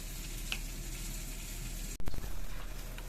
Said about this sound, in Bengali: মাছগুলো হালকা করে এপিট ওপিট ভেজে নেওয়া হলো।